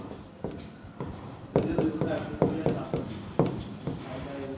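Chalk or marker strokes scratch out numbers on a board in a series of short, distinct bursts, fairly close and moderately loud, with no talking over them.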